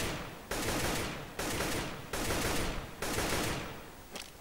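Glock pistol gunfire in CS:GO on de_dust2, several sharp bursts of rapid shots in quick succession, loud and close, separated by brief gaps with echoing tails.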